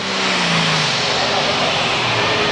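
A pulling tractor's engine roars loudly and continuously at the start of a run at a 1996 tractor pulling event in Sottrum, a dense, steady revving that fills the clip, with an announcer's voice faintly under it.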